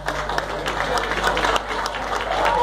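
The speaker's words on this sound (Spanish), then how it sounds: "¡Fuerte el aplauso!" Applause for a musician at a bar concert: a steady wash of clapping hands at moderate loudness, continuous and unbroken throughout, with scattered sharp claps standing out over a low room hum and a faint crowd murmur.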